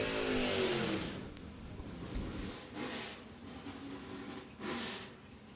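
Drag racing cars at the Spring Fling Galot event launching down the track, a loud engine roar and rush at the start that fades quickly into the distance, followed by a few softer swells of engine noise.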